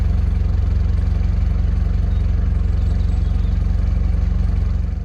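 A narrowboat diesel engine idles steadily, a low rapid chugging throb that stays constant and close throughout, with no voices.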